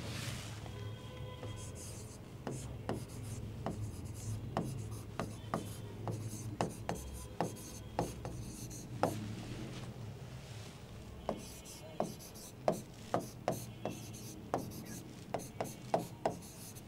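A pen writes maths on paper, a long run of close, quiet scratching strokes and taps in irregular bursts, with faint background noise and no talking.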